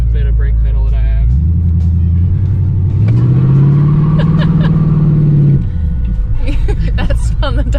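A Vega drag car's engine with a Quadrajet carburetor idles in a deep, loud rumble, then revs up into a rising, sustained roar before dropping back to a lumpy idle.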